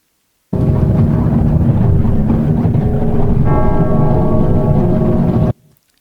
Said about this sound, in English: So obviously there's the bell, the ominous bell